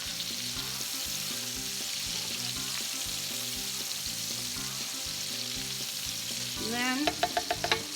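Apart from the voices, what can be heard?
red potatoes frying in bacon fat, being pushed around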